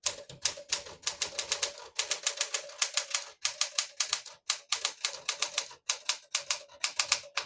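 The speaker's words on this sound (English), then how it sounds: "Beautiful typing machine." Rapid keystrokes on a 1964 Smith-Corona Classic 10 portable typewriter clack in quick bursts, with short pauses between runs and crisp mechanical strikes close up, no voices.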